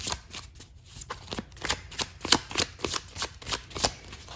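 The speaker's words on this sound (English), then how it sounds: "So let's pull some cards very quickly." A deck of tarot cards is shuffled quickly by hand, giving a run of crisp riffling bursts in an uneven rhythm, close up and with no speech.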